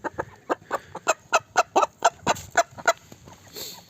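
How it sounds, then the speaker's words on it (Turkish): Gurk Indian chickens cluck in a quick rhythmic series of about a dozen close, sharp calls, then trail off into softer murmuring. "Tavuk biraz utangaç arkadaşlar."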